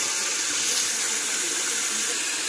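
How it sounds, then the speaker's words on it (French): Hot water pouring steadily into a container, a continuous broad splashing hiss with no pauses, close and fairly loud, with no voices. "Le récipient, donc, nous allons mettre l'eau chaude."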